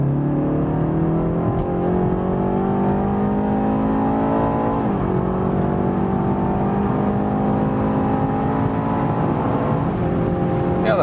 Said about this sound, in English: One more acceleration when we are already at speed